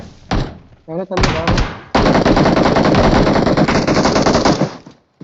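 Sustained rapid automatic gunfire rattles loudly for several seconds after a few shorter bursts, from shooting in the video game PUBG Mobile.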